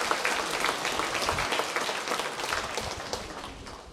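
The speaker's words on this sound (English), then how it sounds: "let's give Jim another round of applause" Steady audience applause for Jim at a hall of fame ceremony that also marks his birthday, a dense, even round that tapers slightly near the end.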